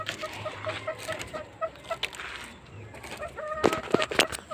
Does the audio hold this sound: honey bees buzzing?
no